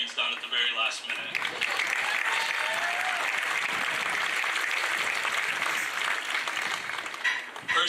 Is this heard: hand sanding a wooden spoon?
no